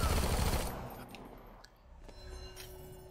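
A short, loud burst of automatic gunfire in Dead Rising 4 opens and then cuts off, leaving a fading echo with faint metallic clinks and low ambient noise.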